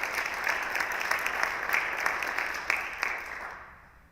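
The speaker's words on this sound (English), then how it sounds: "that's something to give a round of applause to George and his team for the work that he'" An audience at a school district state-of-the-schools presentation breaks into steady, dense applause that holds for several seconds and then fades out.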